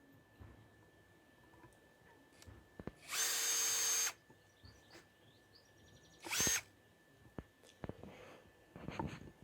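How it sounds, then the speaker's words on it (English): Two short bursts of a power drill whirring as it drives screws into wood, a longer one then a brief second, the bit slipping out, with quiet clicks and handling noises around them. "the drill just kept slipping out"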